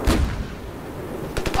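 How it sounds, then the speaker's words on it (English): A grenade launcher fires in the Ravenfield video game: a heavy thump at the start, then a low rumbling tail and a few sharp blasts near the end, loud and close. "Oh, it's like a grenade launcher."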